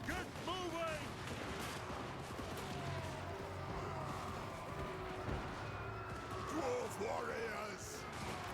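Dwarf cannons and shield-breaker muskets fire in a Warhammer 2: Total War battle, with repeated booms and volleys cracking under shouted in-game voices.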